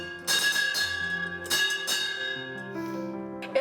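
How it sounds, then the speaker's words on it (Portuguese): A large bell rings out several times, each strike blooming into a long, resonant ringing tone that lingers and overlaps with the next. "Esse sino foi um som assim maravilhoso"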